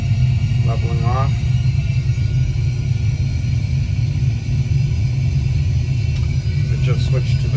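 Boeing 737 engines in a simulated cockpit spool down as the throttles come back while leveling off at cruise altitude, a steady deep rumbling drone throughout with a few brief tonal chirps over it.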